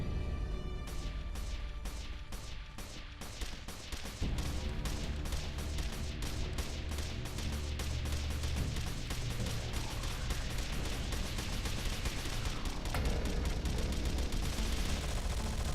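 Assault Hound vehicles in Anomaly 2 fire their guns nonstop, the shots starting slow and then speeding into a dense, loud, rapid barrage over heavy battle noise.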